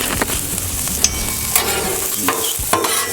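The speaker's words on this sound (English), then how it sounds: "let's give these onions a turn" Onions seasoned with garlic salt fry on a hot Blackstone griddle for Philly cheesesteaks, a close, loud continuous sizzle broken by a few sharp spatula scrapes and taps as they are turned.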